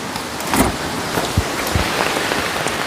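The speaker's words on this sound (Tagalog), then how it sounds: "Sabi ko maligo na si Tatay Ronnie kasi nabasa na sa ulan" Steady rain falls in a forest setting, a dense even hiss of drops striking surfaces with a few louder nearby splats, continuous and close with no voices.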